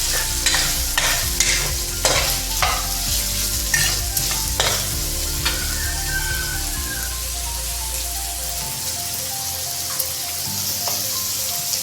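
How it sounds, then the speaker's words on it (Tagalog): Onion, garlic and pork sauté in a pan with a dense, close sizzle, while repeated scraping stirs give a steady rhythm. The sizzle carries on after the stirring stops. "So ginisa ko na yung sibuyas, bawang, and pork."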